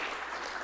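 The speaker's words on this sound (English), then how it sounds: "Can you give Franny a round of applause? One more." A crowd at an evening local government event on the North South Rail link claps steadily throughout, a dense continuous wash of applause without pauses.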